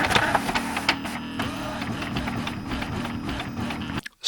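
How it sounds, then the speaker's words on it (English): A home printer runs with a steady mechanical whir and clatter, loud and close, for about four seconds before cutting off abruptly. "Printer at home"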